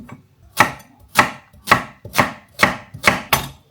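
A knife slices celery on a board for homemade soup, seven sharp, evenly spaced chops in a steady rhythm, close and loud, with no voices.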